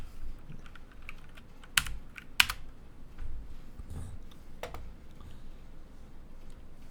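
Scattered keystrokes tapped on a computer keyboard, a few quiet clicks with two sharper, louder taps near the start, over faint room background and no talking.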